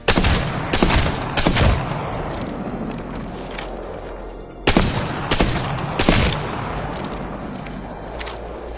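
Bursts of rapid gunfire hit targets in Apex Legends training mode, loud and close, with several clusters of shots separated by short pauses and quieter stretches.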